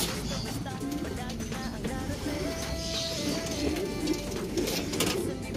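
Racing pigeons cooing at a loft, soft repeated coos blended into steady outdoor background noise, with some faint voices nearby.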